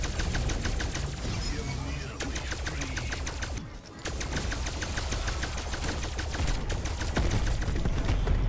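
Sustained automatic gunfire in the zombies Outbreak mode of Call of Duty: Black Ops Cold War, rapid bursts of shots with a brief lull in the middle, then continuous firing again, loud and close with no speech.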